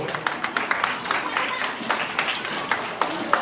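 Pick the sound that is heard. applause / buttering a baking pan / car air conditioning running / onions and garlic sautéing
applause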